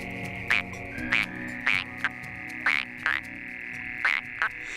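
Frogs croak in short, sharp bursts, about eight calls repeating at a steady rhythm over a soft, continuous background hum.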